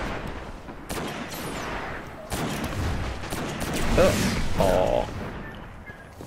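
Video game gunfire with sniper shots, sharp cracks and booming reports scattered over a busy, noisy battle backdrop, with a brief spoken exclamation.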